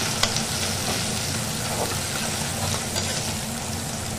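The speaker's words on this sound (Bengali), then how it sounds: "পেঁয়াজ কুচিটাকে অল্প করে একটু নেড়ে নিলাম" Chopped onion with black cumin fries in a pan of hot oil, a steady close sizzle with a few faint stirring clicks.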